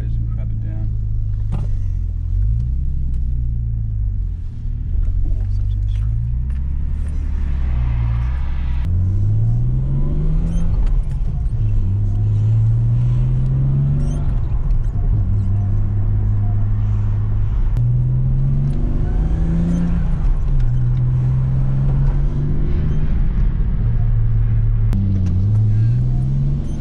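A 1992 Nissan Skyline R32 GTS-t with a turbocharged RB20DET inline-six drives on the road, engine droning and rising in pitch through repeated gear-by-gear accelerations, heard from inside the cabin with someone talking over it.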